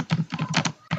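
Rapid typing on a computer keyboard, a quick run of close, crisp key taps with a short pause near the end before more keys follow.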